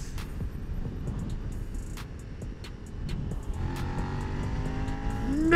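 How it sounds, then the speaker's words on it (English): A Suzuki SV650 motorcycle engine drones steadily while riding, with wind rush and a rising pitch as it accelerates toward the end, loud and close. "We're in the ultimate apocalypse machine, the SV650."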